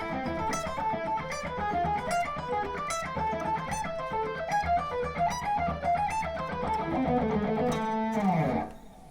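An electric guitar plays a run of picked arpeggio notes with alternate picking and crossing strings, quick and even in rhythm, and ends on a sliding, falling note.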